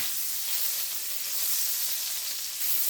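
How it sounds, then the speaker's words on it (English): Butter sizzles steadily in a hot Staub Everything Pan with a little olive oil, a continuous close, even frying hiss without talk. "So I just added about 2 tablespoons of butter."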